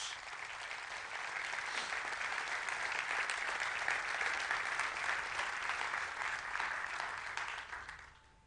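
Sustained applause from a large church congregation, steady and full for several seconds before tapering off at the end.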